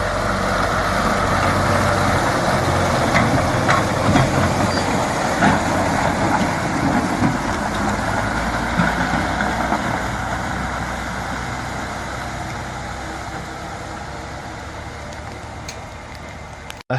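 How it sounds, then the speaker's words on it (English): A vintage logging truck hauling timber through rough wilderness growls with a steady, heavy engine drone that holds loud and constant throughout, easing slightly toward the end. "the vintage engine growls with unrelenting power"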